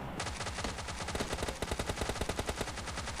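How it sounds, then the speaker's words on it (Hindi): Rapid bursts of gunfire in a multiplayer shooter video game, dense overlapping shots that become a rhythmic string of sharp, loud reports in the second half, with no talking. "मैंने भी इस बंदे पे कुछ शॉट्स कनेक्ट किए"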